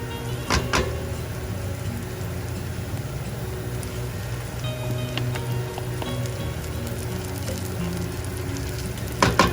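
Tomatoes going into a pan of nicely browned chicken for a mint chicken dish, with a steady, close sizzle throughout and a few sharp utensil clatters near the start and end.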